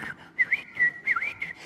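A person whistles to imitate a golden oriole's call, giving a series of clear, fluty, warbling phrases with short gaps, close and fairly loud with no talk over it.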